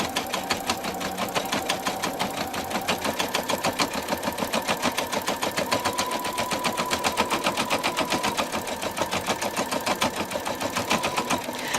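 An embroidery machine stitching a design over Mylar, a fast, even mechanical chatter of needle strokes running steadily and close throughout, no voices.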